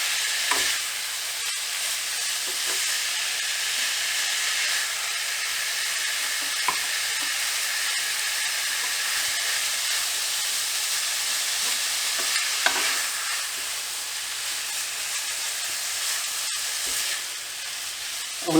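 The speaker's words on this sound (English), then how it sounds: "we want to keep stirring it like this and squishing it down and mixing it up until all of the beef is browned" Minced beef being stirred, pressed down and browned in a pan for a potato curry, with a constant close sizzle and occasional scraping and tapping of the utensil against the pan.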